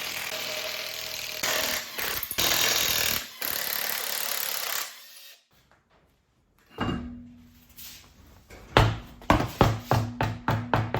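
An aging rattle gun (impact wrench) removing wheel nuts on an EB Falcon, long loud buzzing bursts broken by a near-silent pause, then a run of sharp rapid hammering blows close to the microphone.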